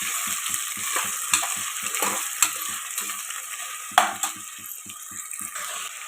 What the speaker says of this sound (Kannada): ಎಣ್ಣೆಯಲ್ಲಿ ಫ್ರೈ ಮಾಡ್ತೀನಿ ರೀ. ಎಲ್ಲ ತರಕಾರಿ ಹಾಕಿಬಿಟ್ಟು ಫ್ರೈ ಮಾಡ್ಬೇಕಂತ.